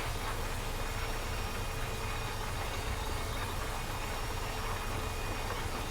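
A tractor engine in the Farming Simulator 15 video game idles with a steady, unbroken low rumble and hum that holds at constant loudness throughout, with no talk over it.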